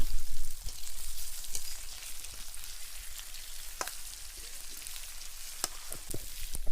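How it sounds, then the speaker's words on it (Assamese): Chicken meat, potatoes, onion and garlic fry in a pan with a steady, close crackling sizzle that runs throughout, marked by sharp pops and spits of hot oil; no voices. "ইয়াতে কাটি ৰখা আলু আৰু মাংসখিনি দিব লাগিব, অলপ টাইম ফ্ৰাই কৰিব লাগিব।"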